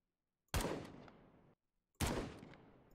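Rifle fire in a tank warfare video game with an infantry fighting vehicle in a desert battle: two sharp, loud single shots about one and a half seconds apart, each with a long ringing tail.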